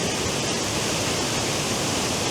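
Ffrwdgrech Waterfalls in the Brecon Beacons pour in a steady, dense rush of falling water, a close broadband roar that holds even and unbroken throughout with no voices.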